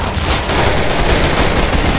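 Rapid gunfire from shooting zombies in a Roblox game, a loud, dense burst of overlapping shots crackling nonstop across two seconds, close and harsh with no talk over it.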